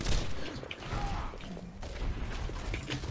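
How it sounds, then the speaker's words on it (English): Rapid gunfire against a shield in the video game Overwatch, a continuous dense rattle of shots mixed with thuds and impacts in a busy game soundscape. "I'm shooting the shield."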